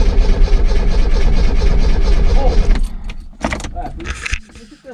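A 1991 Dacia 1310 Break being started, its engine running with a rough, steady rumble that cuts off partway, followed by scattered clicks and handling noises while people talk nearby.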